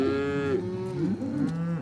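Cattle on a ranch low loudly during herding, two long drawn-out moos close by with a faint outdoor background and no talking.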